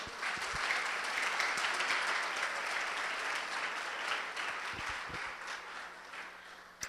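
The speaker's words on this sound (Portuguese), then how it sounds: "Pode aplaudir o Senhor?" A church congregation at a Portuguese-language worship service applauds together, a soft, distant wash of many hands clapping that holds steady for several seconds before fading slightly.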